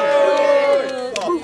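A live crowd at a battle rap event cheers and shouts for battle rapper Teknico, a loud burst of voices that drops off after about a second.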